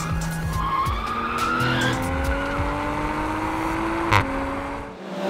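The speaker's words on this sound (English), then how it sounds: "I love the Toyota Supra on the track" A Toyota Supra driven hard on a race track, tires squealing loudly and continuously as the engine revs climb and shift, close and sustained with no talk.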